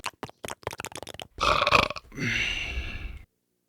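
A long, loud burp close to a microphone follows a run of quick clicking taps, then ends abruptly in silence.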